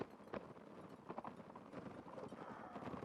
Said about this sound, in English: the random horses stand there and mind their own business.